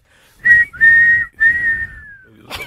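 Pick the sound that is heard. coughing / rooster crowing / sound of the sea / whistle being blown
whistle being blown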